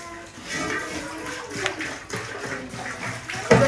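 Water is poured from a full can into a freshly washed cooking pot, a steady splashing and gurgling stream for several seconds that ends with a brief louder splash.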